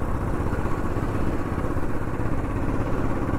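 A BMW R 1250 GS motorcycle drones steadily while being ridden on a winding hill road, its engine and wind noise forming a loud, continuous rumble with no talking.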